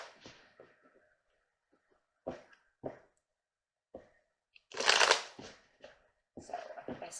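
Tarot cards being shuffled and handled close up, with scattered short riffles and taps separated by quiet gaps and one louder, longer shuffle near the middle.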